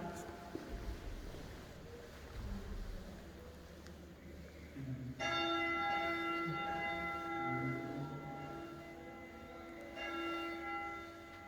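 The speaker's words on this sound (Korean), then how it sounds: "당기고 조금 있으면 종이 울립니다." Church bell at the Church of the Assumption of Mary on Lake Bled, Slovenia, rung by pulling a rope inside, begins partway through as a sustained ringing tone with bright overtones, following muffled handling noise and talk.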